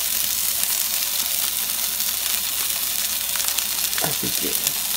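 Chorizo and potatoes sizzling in a frying pan for breakfast burritos, a steady close hiss of frying with a few light scrapes of stirring near the end, no talking.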